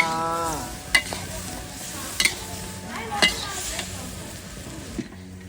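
Vegetables and shrimp sizzle in a hot pan while a utensil stirs and scrapes, with a few sharp clinks of metal against the pan; a voice speaks faintly in the background.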